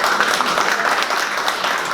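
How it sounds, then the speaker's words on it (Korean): Steady applause from a conference audience welcoming a speaker, a dense even wash of clapping lasting the whole stretch without pause. "큰 박수로 환영해 주시면 감사하겠습니다."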